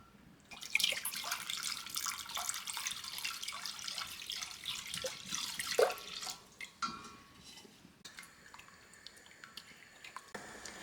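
Horchata is poured into a pot for dairy-free hot chocolate, a faint, close trickling and splashing stream for about six seconds, then quieter drips and light handling clatter, with no speech.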